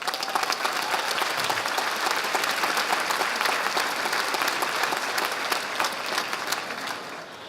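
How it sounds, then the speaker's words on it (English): Sustained, dense applause from a large commencement crowd at Queensborough Community College, steady and loud throughout for a college president, tapering slightly at the end. "Please join me in giving her a round of applause."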